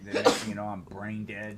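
A single sharp, close sneeze bursts out right at the start, loud and breathy, then casual conversational speech carries on immediately afterward.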